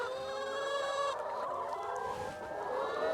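Laying hens settled in their winter house cluck and call steadily, several birds overlapping in a busy, close chorus with no talking.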